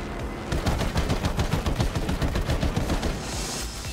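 Rapid cannon fire from an F4U Corsair fighter plane in the video game Battlefield V, a steady close burst of loud, evenly spaced shots lasting several seconds with no talking.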